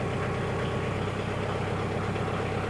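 A heavy-duty tractor backhoe engine runs steadily at close range as the hydraulics lift the back of the tractor, a dense continuous diesel drone with a low rhythmic knock.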